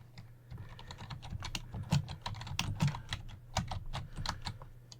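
Keys on a computer keyboard are tapped in quick, uneven bursts as a Linux terminal command is typed on an Ubuntu machine, close and clear with no voices.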